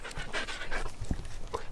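A dog pants in quick, breathy bursts close by for under two seconds, with a brief low thump partway through.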